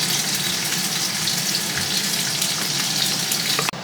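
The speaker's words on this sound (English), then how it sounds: "They are grilling the meat I bought on the way home" Meat grilling, a dense, loud crackling sizzle that runs continuously without pause, ending with a brief sharp knock.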